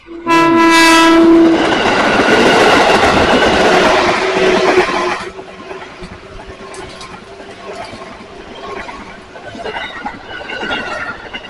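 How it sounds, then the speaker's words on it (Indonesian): A train roars past close by, its horn blaring at the start, then the rumble and clatter of wheels fade into the distance. "Ada kereta lagi."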